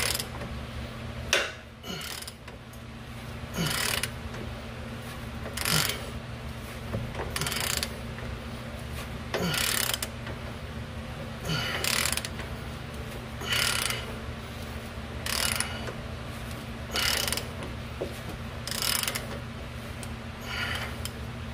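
A ratchet turns the nut on a press tool forcing out a BMW ball joint. Steady, evenly spaced ratchet strokes repeat roughly every two seconds for the whole stretch, over a constant low workshop hum.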